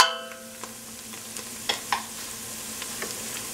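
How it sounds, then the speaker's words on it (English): Cabbage soup with cilantro being stirred in a pot, a handful of light scrapes and taps from a spoon over a faint simmer, close and quiet, with no voices. "I'll just give it a little mix up"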